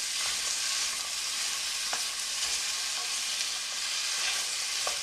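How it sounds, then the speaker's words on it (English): Red onion sizzles and crackles steadily in hot butter and extra virgin olive oil in a pan, a continuous bright frying hiss with a few sharp pops, close and alone with no talking. "We're going to add our red onion. I just love the sound of that sizzle."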